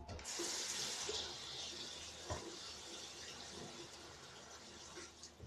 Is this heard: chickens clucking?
no